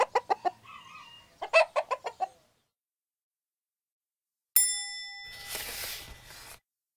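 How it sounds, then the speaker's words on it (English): A hen clucks in a quick run of short, close bursts, then pauses before a sharp bell-like ding and a burst of rustling noise. "A hen can cluck and peck."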